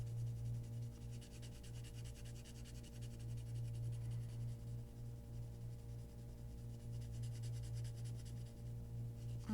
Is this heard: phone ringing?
no